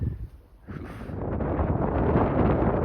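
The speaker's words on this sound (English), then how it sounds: "going into the wind on a bike" Wind buffets the microphone of a bicycle ridden into a headwind on a South Uist causeway, a steady low rumbling roar that builds after a brief lull and stays loud throughout.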